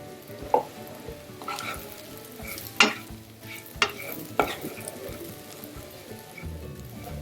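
Crushed peanuts fry in a spiced oil tempering for a kachori filling, a soft crackling sizzle under irregular spoon stirs with a few sharper clinks against the pan.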